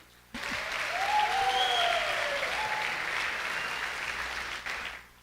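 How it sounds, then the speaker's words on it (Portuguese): A burst of applause from a church service audience, steady clapping that swells quickly and holds for several seconds before tapering off. "Uma salva de palmas para ele."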